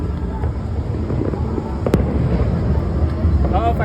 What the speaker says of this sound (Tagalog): Live fireworks oh.